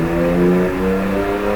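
A Holden Gemini race car fitted with a supercharged 3.8 litre Holden Commodore engine rumbles loudly at a historic sprint meet, a steady harmonic engine note with a slight pitch dip midway.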